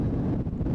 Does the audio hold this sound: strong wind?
yes